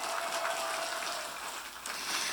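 An audience at an Indonesian religious lecture applauds in a continuous, even wash of clapping heard from a distance, with a faint voice underneath.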